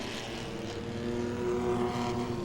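Pro Six race cars roar around Langley Speedway in a steady, loud, continuous engine drone with overlapping tones from several cars, swelling slightly toward the middle; no talking.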